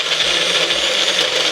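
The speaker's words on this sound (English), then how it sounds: "I'm gonna hit the blender" A kitchen blender running at full speed, a loud steady high whir with a rattling grind of contents, close by and uninterrupted.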